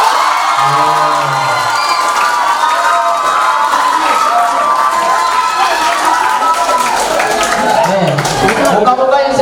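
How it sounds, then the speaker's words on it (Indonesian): Accounting students in a campus lecture hall clap and cheer during a quiz session, a lively crowd noise of mixed clapping, shouts and chatter that stays loud and continuous throughout. "Minta tepuk tangan yang hanya jurusan akuntansi."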